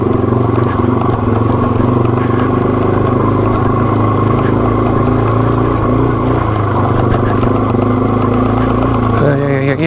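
Yamaha TW200 dual sport motorcycle engine downshifting on an abandoned railroad track: a loud, close, steady single-cylinder drone that shifts pitch and revs briefly near the end.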